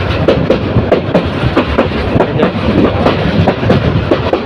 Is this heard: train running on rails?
yes